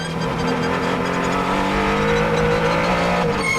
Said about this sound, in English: And you can hear the hybrid drive.